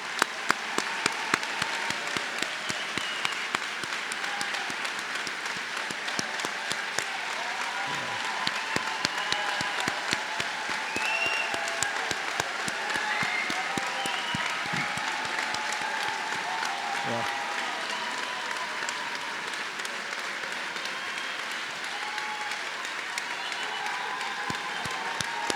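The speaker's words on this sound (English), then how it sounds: "Let's give them all another round of applause" Large audience at a medical school White Coat Ceremony applauds the graduating class, a dense, steady wash of clapping that holds evenly at moderate loudness for the whole stretch.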